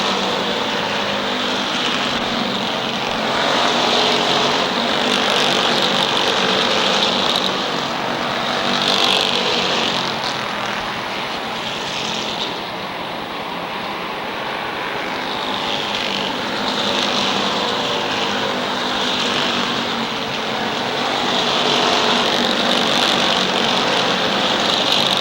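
Late model stock cars racing around the Waterford Speedbowl oval in Connecticut, a loud, continuous engine roar that swells and fades as the field passes, with no voices over it.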